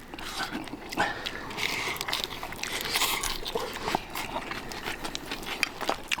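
Close, wet chewing and crunching of bibimbap made with homegrown vegetables, fresh sprouts, perilla oil and gochujang, with steady bites and no talk.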